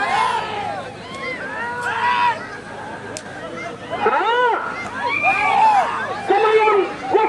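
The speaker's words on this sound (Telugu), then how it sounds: "కేకలేయాలి ఒకసారి అందరూ విజుల్లో కేకలు రావాలా?" A crowd at a bullock cart pulling contest in Rudravaram village, Nandyal district, shouts and cheers in rising bursts with a sharp whistle, while an announcer talks over the noise outdoors.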